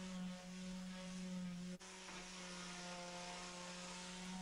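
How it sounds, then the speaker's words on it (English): A mouse sander works over rough salvaged solid pine, its motor humming in a steady, quiet tonal drone with a brief dip midway. "the mouse sander just helps me to get into all those corners"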